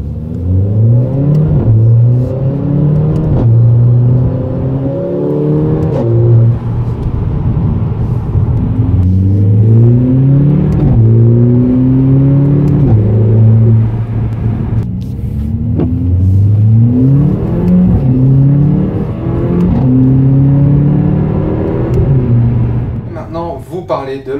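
A 2016 Mercedes CLA45 AMG with a 2-litre inline four-cylinder making 381 horsepower accelerates hard, its loud engine note climbing through repeated gear changes in a steady rising and dropping pattern, with someone talking over it.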